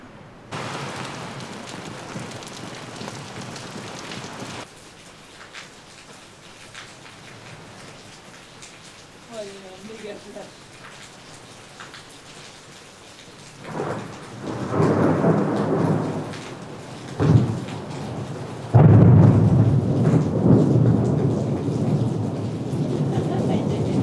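Outdoors during a pre-dawn thunderstorm while camping in the wild, steady rain patters at first, then rolling thunder builds into loud, booming rumbles that swell and crash repeatedly near the end.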